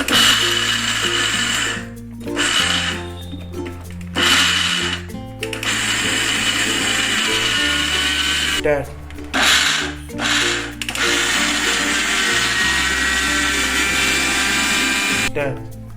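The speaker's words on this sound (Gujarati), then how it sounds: "પીસી લઈશું મિક્સરમાં।" An electric mixer grinder dry-grinds ingredients for adadiya in loud, close whirring bursts of several seconds each, separated by brief pauses, with a voice talking between and over the runs.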